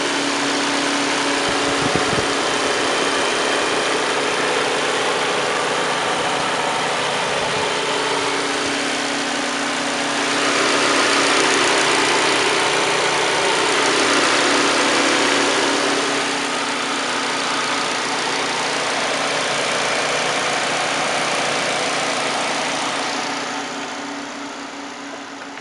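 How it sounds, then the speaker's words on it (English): A 2013 Volkswagen Jetta SE's 115-horsepower four-cylinder engine idles steadily with a smooth, even hum, a faint fan whir rising and falling over it, then tapering off slightly at the end. "Here's the 115 horsepower four-cylinder engine, the 2013 Jetta."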